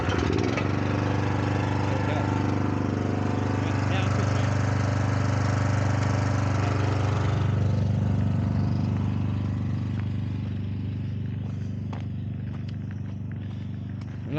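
A small petrol engine, started after its choke and fuel are set, runs with a steady close rumble that gradually settles and softens toward the end.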